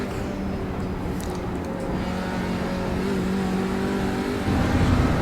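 A race car engine in a racing video game buzzes against its rev limiter as the car goes light over a crest, a sustained, steady droning note that rises slightly toward the end.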